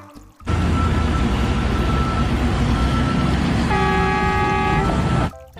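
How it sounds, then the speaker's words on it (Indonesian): A toy mining truck roars with a loud, steady electronic engine rumble that starts abruptly, then a tooting horn joins near the end before the sound cuts off sharply. "di sini ada truk tambang"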